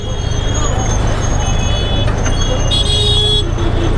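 Busy moving road traffic in Jaipur, Rajasthan rumbles steadily, with several car and vehicle horns tooting repeatedly while a person talks over the din.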